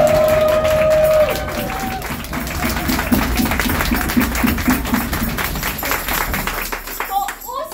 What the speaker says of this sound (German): Jetzt dürfen wir kurz klatschen.